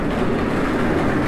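Loaded goods carts roll through a shopping mall with a dense, continuous rumble and clatter, much like a train passing nearby. The noise is loud and steady throughout.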